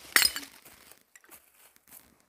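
Glass bottle breaking: one sharp, bright shatter near the start, followed by a few faint tinkling fragments settling in otherwise quiet surroundings.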